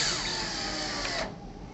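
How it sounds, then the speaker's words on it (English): A power driver runs a screw in to fit a direct-mount window hinge, a steady whirring drone that cuts off after about a second, followed by quieter room noise. "We can go ahead and install the bottom screw."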